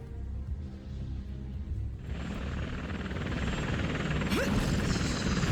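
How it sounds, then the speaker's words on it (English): A helicopter in the video game Bayonetta gives a steady, close rotor and engine rumble that swells louder halfway through, with a brief rising whine near the end. "Why would you jump out of a helicopter?"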